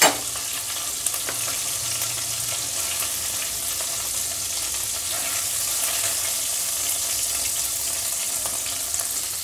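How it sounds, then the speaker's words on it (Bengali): Lote fish (Bombay duck) fries in oil in a pan, making a dense, steady sizzle that stays close and constant, with faint crackles scattered through it. "এই যে লোটে মাছটা, এটা একটু হালকা ভেজে নিয়েছি।"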